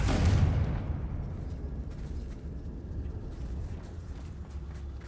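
A Confringo blasting spell detonates in Hogwarts Legacy, opening with a loud, close burst that fades into a long rumbling low tail, with sparse crackling debris over the following seconds.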